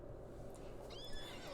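A horse neighs in Lord of the Rings Online, a single high whinny rising out of a steady low rumble of game ambience and faint hoof movement.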